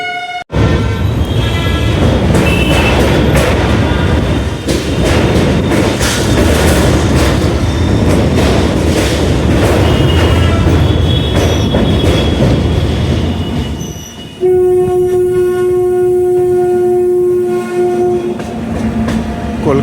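Sabarmati Express passenger train hauled by a WAP-7 electric locomotive roars past close by, a dense rumble of wheels and carriages with squealing, then a long sustained horn blast near the end.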